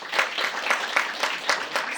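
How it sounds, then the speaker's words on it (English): A live podcast audience gives a brief burst of clapping, a few seconds of scattered hand claps at moderate volume with distinct separate strikes, heard alone without talk. "Can you clap if you wouldn't mind?"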